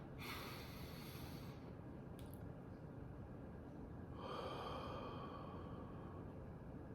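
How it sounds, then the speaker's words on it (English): One slow, deep breath, first a soft drawn-in inhale, then a pause and a gentle, audible exhale, faint and close in a quiet room with no talk. "take a deep breath with me"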